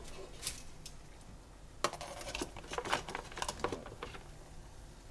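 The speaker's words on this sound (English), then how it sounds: "So now we're going to chuck it in our stock pot." Frozen mud crab tossed into a metal stock pot, a sharp clatter followed by a quick run of light knocks and rattles against the pot, fairly quiet and close.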